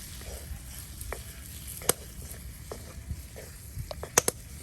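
Eggs roasting in a hot pan with turmeric and chilli powder for a dhaba-style egg butter masala, giving a soft steady sizzle with scattered crackles and a few sharp clicks of a utensil against the pan.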